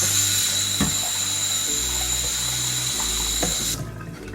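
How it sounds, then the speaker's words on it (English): Cold tap water runs steadily into a pot of sushi rice as the starch is rinsed off, a close, continuous hiss and splash with a brief clatter midway, stopping abruptly near the end. "I'm going to run water through it and just rinse the starch off"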